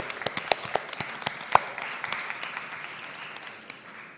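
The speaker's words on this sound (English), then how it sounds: "But Sondra, I just want to give you an applause." A speaker-panel audience claps in scattered, distinct claps that are sharp and fairly close at first, then thin out and fade into a softer patter.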